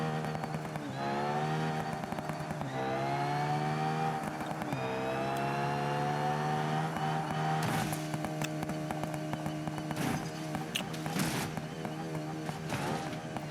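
A drag car in the driving game BeamNG howls through its gears, a loud buzzing engine tone climbing in pitch and dropping at each quick shift, then holding a high strained whine with bursts of harsh noise.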